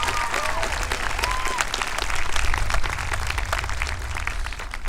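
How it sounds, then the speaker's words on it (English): A crowd at a high school graduation ceremony applauds the custodial staff, steady full-room clapping with a few whoops and cheers mixed in. "If you'd please give them a hearty round of applause."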